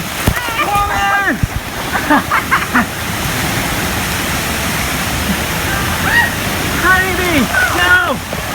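Rushing water pours continuously at a Volcano Bay water park as a ride passes under a waterfall, a loud broad splashing roar with excited voices calling out over it.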